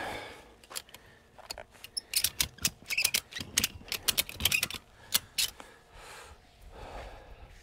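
Ratchet straps on a tractor trailer hauled by a Case Maxxum 125 being tightened, giving irregular bursts of sharp clicking ratchet strokes, fairly close and moderately quiet, with no talk over them.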